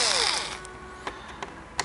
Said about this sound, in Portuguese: Agora tem mais 2 parafusos externos aqui, ó. 1, 2. Vou soltar os 2 também.